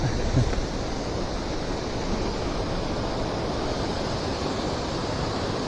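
Flowing river in a rocky riverbed along the Doro Petungkriono route, a steady dense rush of water, continuous and fairly loud with no voices.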